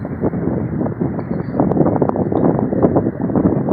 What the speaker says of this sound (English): So the wind is starting to pick up